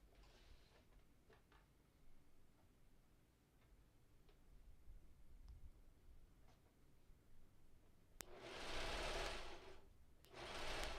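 A serger sewing machine stitching the hem of cosplay fabric, quiet ticking and handling at first, then two loud whirring runs near the end.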